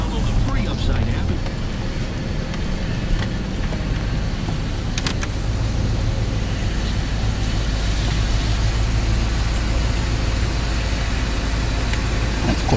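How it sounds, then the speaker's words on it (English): A Ford F-350 pickup with a 7.3L V8 is turned around, a close, continuous low engine rumble with occasional clunks and brief mechanical noises over the steady drone. "Let me turn around my truck."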